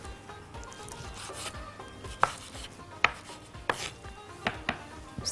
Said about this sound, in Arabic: اللحمه بتاعتنا نقطعها قطع صغيره جدا